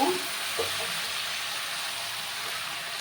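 Bottle gourd greens and lentils sizzle in a pan with a steady, close frying hiss, while a few soft knocks of a spoon stirring the mixture sound early on.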